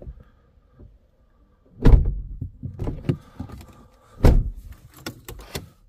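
BMW car doors shut with two solid thunks close by, mixed with scattered clicks, latch rattles and handling noises in an otherwise quiet setting.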